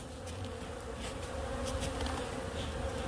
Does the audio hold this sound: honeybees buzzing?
yes